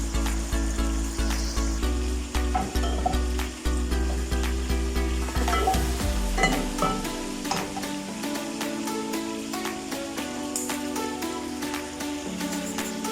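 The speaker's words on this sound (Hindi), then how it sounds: "जब तक हमारा चिकन फ्राई होता है हम गाजरों को फ्राई कर लेते हैं।" Chicken and carrots fry in a pot for an Afghani pulao, a close, moderate sizzle and crackle with repeated stirring clatter and utensil taps, continuing steadily with no talk.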